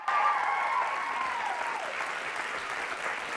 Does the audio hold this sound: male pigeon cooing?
no